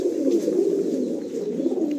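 A pigeon about seven and a half to eight years old coos close by in a continuous, low, throaty burble that stays steady and loud throughout.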